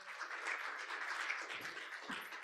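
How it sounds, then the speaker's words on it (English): Audience applause at a circular economy conference session, a steady, faint patter of clapping from a seated crowd that continues unbroken. "So I want you to give a round of applause"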